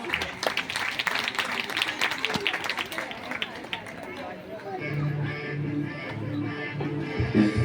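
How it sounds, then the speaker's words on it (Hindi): Clapping from an audience at a National Association for the Blind event in Delhi, brisk and loud at first, then fading into crowd chatter and a voice over a soft background tone. "लीजिए तालियों के साथ स्वागत कीजिए मिस्टर जॉर्ज"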